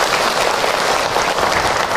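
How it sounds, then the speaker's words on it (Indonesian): A dense, steady burst of applause from an audience at a parenting talk, many hands clapping together at full strength and close, with no break across the whole stretch. "Tepuk tangan buat Bunda yang bertahan"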